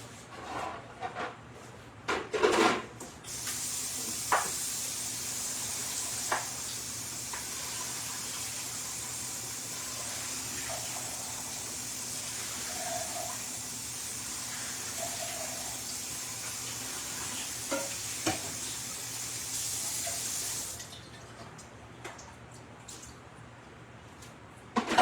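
Liquid from an opened can of black beans pours steadily into a sink for about twenty seconds, a soft continuous splashing rush. A few clinks and knocks come at the start and end.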